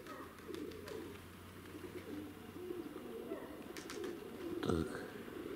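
Pigeons cooing outdoors at dusk during pigeon training, soft repeated low coos with a brief call standing out near the end, over steady background noise.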